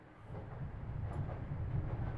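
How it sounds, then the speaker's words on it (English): Low rumbling train-track rattle and clatter within a dark, reverberant horror video game ambience, a steady continuous drone that swells slightly louder, with no talk. "we can hear the train tracks and we can hear a bunch of different stuff"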